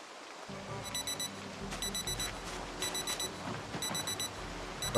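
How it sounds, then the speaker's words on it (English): An alarm clock rings in the video game Project Zomboid, a bright repeating electronic trill sounding in regular bursts over a steady bed of falling rain. "Stop the alarm."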